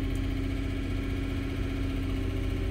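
A 5.3-litre engine in a 2015 GM truck idles steadily and close up, with a constant low rumble and a fast, even tick running through it, no voices.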